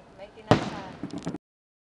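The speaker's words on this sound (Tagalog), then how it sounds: "Fireworks sa Cebu." A single sharp New Year firework bang in Cebu cracks out at close range, followed by a brief rumbling tail and a few murmured voices before cutting off.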